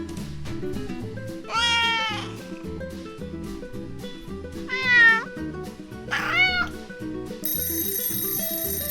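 A cat meows three times, each call rising and falling, over steady rhythmic background music, with a brief electronic chime near the end.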